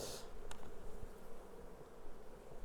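Honeybees buzzing during an autumn hive inspection while colonies are prepared for winter, a soft continuous drone close by with a brief louder swell at the start.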